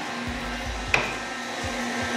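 Electric mixer whirring steadily as it blends granulated sugar into pumpkin muffin batter, a faint continuous hum with one brief clink near the middle.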